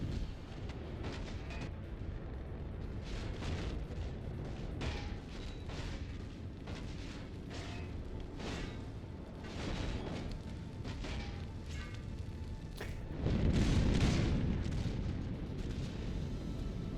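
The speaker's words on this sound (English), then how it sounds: "Flak and Defenders once again opening up. Gonna clean up those missiles pretty nicely there." Flak and defender point-defence guns fire at incoming missiles in the space combat game Nebulous: Fleet Command, a dense stream of booming bursts and pops that swells louder near the end, with no talk over it.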